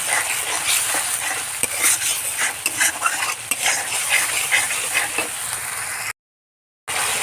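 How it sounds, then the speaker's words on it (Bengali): Fish masala with turmeric powder and salt stir-fried in a pan: loud continuous sizzling broken by scraping spatula strokes and occasional clinks, with a short silent gap near the end. "সাত চামচের মতো হলুদ গুঁড়ো আর পরিমাণ মতো নুন এবার দিয়ে ভালো করে কষে নেব"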